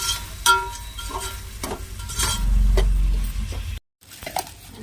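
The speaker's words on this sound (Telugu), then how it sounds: "ఇప్పుడు మళ్ళీ ఒకసారి కలపాలి" A spoon stirs curry with ginger garlic paste in a pan, giving scattered metallic clinks and scraping, with a longer rough stretch of stirring near the end before a brief pause.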